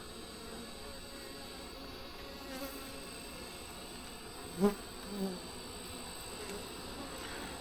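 Honeybees in a weak hive hum in a soft, steady drone during a hive inspection of brood comb, faint and continuous with a couple of brief closer sounds.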